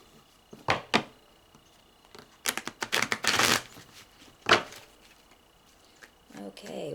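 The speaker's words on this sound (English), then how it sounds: "One more shuffle." Tarot cards get one more shuffle, a few sharp taps followed by a dense riffling burst and a final snap, close by, with a faint voice at the end.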